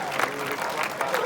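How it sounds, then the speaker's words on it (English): A premiere audience applauds briefly, a soft continuous patter of many hands under a speaking voice. "give yourself a great big round of applause for being here tonight"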